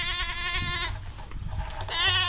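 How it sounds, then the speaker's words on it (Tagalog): Goats bleat close by under a farm shelter, with one long, wavering call followed by a shorter one after a brief pause. "Sinisilong niya yung kanyang mga me-me, mga kambing."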